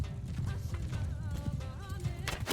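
Cavalry horses in a video game battle for a Tamerlane bandit kingdom campaign: steady clip-clop of hooves with brief whinny-like tones over a low battle din, and a sharp clash near the end.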